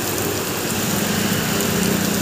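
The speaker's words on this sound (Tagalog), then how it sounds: "Ang lakas ng ulan eh." Heavy rain comes down in a steady, dense roar that fills the whole clip, loud and unbroken with no talking.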